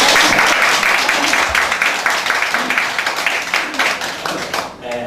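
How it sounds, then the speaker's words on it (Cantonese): An audience at a community health talk in Hong Kong gives steady, dense applause that fills the room for several seconds before it thins out toward the end. "少少嘅掌聲啦"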